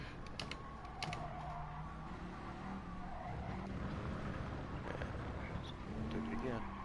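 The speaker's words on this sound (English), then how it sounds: "You can hear the engine go." Race car engine in Gran Turismo Sport revving and shifting in a racing game, with faint tire squeal, steady and continuous under someone talking.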